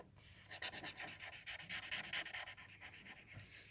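Rapid, steady rubbing strokes of a black marker coloring in a paper drawing of a Minecraft boot, close and continuous for several seconds with no talk.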